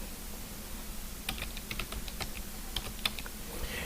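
A username being typed on a computer keyboard, with a quick run of light, irregular key clicks, close but faint over a low room hum.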